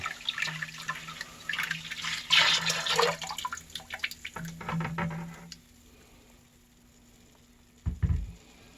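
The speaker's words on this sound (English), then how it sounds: "Now I'm going to try to carefully add this sugar water." Sugar water pours and splashes steadily into Catawba grape wine for several seconds, then thins to quiet trickling, ending with a soft low thump.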